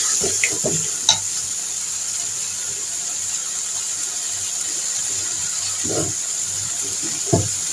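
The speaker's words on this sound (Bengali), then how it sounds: "মশলাটা ভালো করে কষায় নিতে হবে যতক্ষণ পর্যন্ত তেলটা উপরে ঝাঁচে না উঠবে" Spice masala frying and being stirred in oil in a pan, a steady hiss of sizzling with a few sharper scrapes and clinks of the spoon against the pan.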